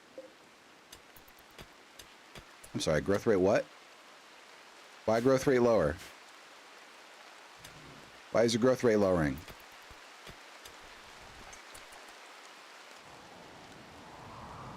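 Steady rain falls in a sludge-themed video game, a soft even hiss running through the whole stretch while people talk over it in three short bursts.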